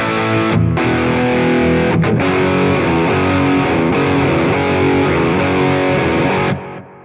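A heavily distorted electric guitar plays loud sustained chords and lines through a stereo rig with delay placed after the amps. The playing is dense and continuous, with echoes trailing behind, then cuts off near the end with no talking.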